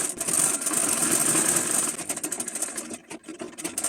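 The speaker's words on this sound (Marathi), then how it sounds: "सगळी पानं जोडल्यानंतर त्यावर अस्तर आपल्याला शिवून घ्यायचं आहे" A sewing machine stitches the lining onto a traditional khan fabric toran, a steady mechanical whirring and rattling close by that runs throughout, with brief pauses near the end.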